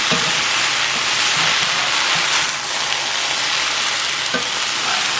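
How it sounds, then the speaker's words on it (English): Kidney beans being folded into sizzling jerk jackfruit in a pan, a steady loud frying hiss with soft scraping stirs running throughout, no voices. "Now you want to fold it in, you don't want to mix it too much because you don't want to break up your beans."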